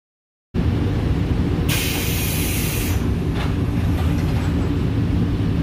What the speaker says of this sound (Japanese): というわけで京都駅を発車していきます